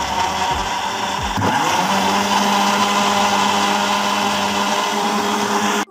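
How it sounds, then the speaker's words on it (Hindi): A kitchen blender whirs through peach juice without sugar, starting with a couple of short pulses, then spinning up into a steady, loud motor whine that runs until it cuts off abruptly. "और इसको हम अच्छे से ब्लेंड कर लेंगे।"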